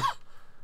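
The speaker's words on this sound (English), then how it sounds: "I apologise for the coughing, by the way." A single short, fairly loud cough or throat-clear from a man with a sore throat, a quick burst at the start that fades into quiet room tone.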